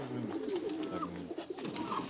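Pigeons coo in a pigeon keeper's loft with repeated low, throaty calls that overlap close to the microphone. The cooing is steady and fairly loud, and no one speaks.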